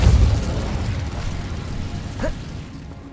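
A fiery Incendio spell blast from Hogwarts Legacy opens with a loud low boom, then decays into a roaring, crackling rush. A short whooshing flare follows near the end.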